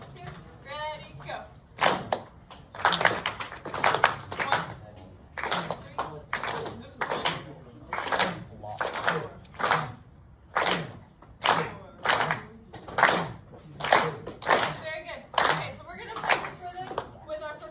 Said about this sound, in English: We're going to clap a couple times.